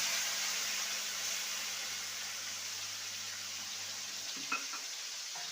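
Ginger paste and turmeric powder frying in a pan with a steady, even sizzle and one brief stirring scrape near the end; no one talks.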